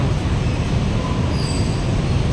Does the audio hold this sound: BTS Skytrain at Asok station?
yes